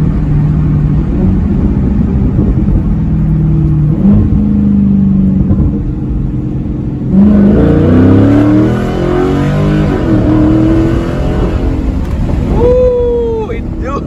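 A Dodge Charger SRT8 muscle car with its mufflers and resonator removed revs loudly as it accelerates. The throaty roar climbs in pitch through several gear shifts and stays close and loud throughout.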